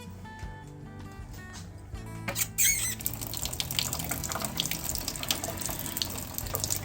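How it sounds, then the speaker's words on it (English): Tap water runs over lead jig heads being rinsed in a sink, starting soft, then a sharp clatter before the stream settles into a steady splashing rush, close and moderately loud without speech. "So we're just going to rinse these off with just some lukewarm water, room temperature."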